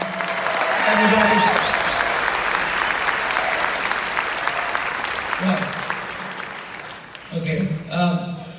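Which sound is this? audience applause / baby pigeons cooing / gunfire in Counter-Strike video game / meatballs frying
audience applause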